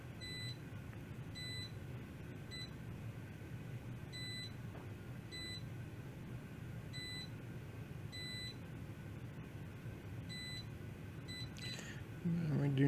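A multimeter gives short, evenly spaced continuity beeps while probing the filters around a damaged Nintendo Switch charging port, faint tones repeating over a steady background hum and ending in a louder rustle.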